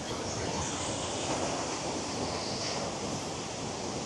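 Rushing water from the Kravica waterfall near Mostar, Bosnia, pours as a dense, steady, full roar close by, unbroken for the whole stretch with no talk.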